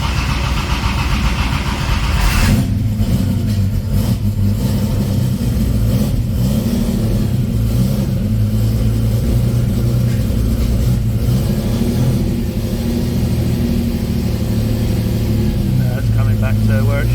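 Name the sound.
Hemi 6 Pak Charger with solid cam engine running and revving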